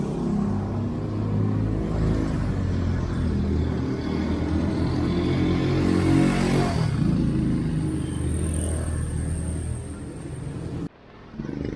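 Traffic on a busy road rolls past continuously, a steady rumble of cars with one louder vehicle swelling midway, heard through rain-soaked ambience before a sudden drop at the end.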